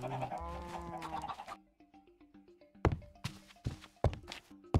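Chickens in Minecraft cluck and squawk, first a busy burst of overlapping calls, then after a short pause a string of sharp, separate clucks and flutters at close range, with no one talking.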